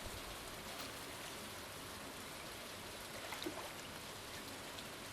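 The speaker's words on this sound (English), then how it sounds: "Bit of sea fishing in the rain" Steady rain falls in Stardew Valley during early-spring sea fishing, a constant soft hiss with light pattering throughout, heard alone with no talk over it.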